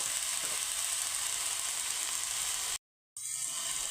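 Chopped banana stem with turmeric fries in a pan, giving a steady, dense sizzle that cuts out completely for a moment before resuming.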